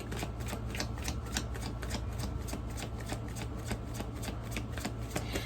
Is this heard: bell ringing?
no